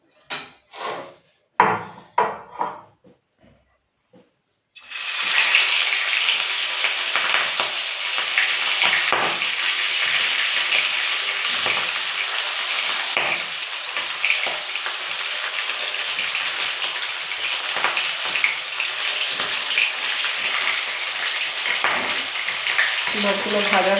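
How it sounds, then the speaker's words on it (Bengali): Fish pieces dropped into very hot oil in a wok sizzle loudly and steadily, with a few clatters from the cooking setup just before the frying begins. "মাছগুলো ভাজা হোক"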